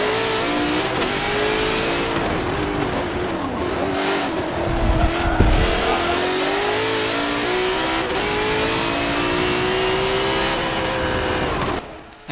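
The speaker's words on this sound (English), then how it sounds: "this is me driving the P1 GTR, and this thing has a mean scream to it" A McLaren P1 GTR hypercar in the Forza Motorsport 7 racing game screams at high revs through a lap, the engine note rising and falling steadily with gear changes, loud and continuous before cutting off at the end.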